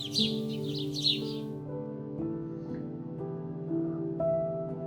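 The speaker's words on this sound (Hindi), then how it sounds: "सागरताल एक आकर्षण का केंद्र इसलिए भी है क्योंकि वहाँ की चिड़ियों का चहचहाना, वहाँ की हल्की हल्की हवा का चलना किसी का भी मन मोह सकता है" Small birds chirp rapidly at Sagartal lake for the first second or so, their bright calls layered over sustained, steady musical tones that carry on alone afterward.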